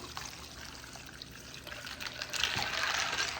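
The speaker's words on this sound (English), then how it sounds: "I will take and put a container of ice water over the top of them." Ice water poured from a container over salted watermelon rinds, a soft continuous pour and trickle that grows louder and splashier toward the end, heard close with no talking.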